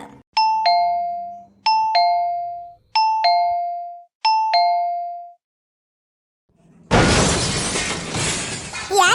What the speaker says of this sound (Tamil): ஏய் காலிங் பெல்ல சத்தமா அடி